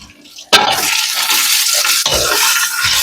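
Bacon fries in a deep stock pot, a loud, close, steady sizzle that bursts up sharply at the start, then crackles on continuously with brief surges and dips.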